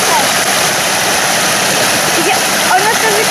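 A mountain tributary stream of the Morava river rushes steadily and loudly close by, a dense continuous wash of flowing water with no pauses.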